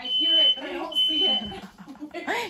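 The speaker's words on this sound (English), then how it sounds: "Oh, sound the alarm." Kitchen smoke alarm shrilling in steady high beeps during vegan stuffed bell pepper jack o' lantern cooking, loud and near, with excited voices talking over it.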